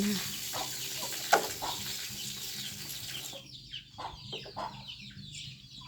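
Chickens cluck near and far while being given fresh drinking water, with brief wing flaps and watery splashes amid rustling, farmyard background noise.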